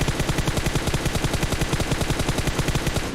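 Rapid automatic gunfire from PUBG Mobile, a dense, steady stream of loud shots repeating in a fast even rhythm with no pauses, close and dominating the mix.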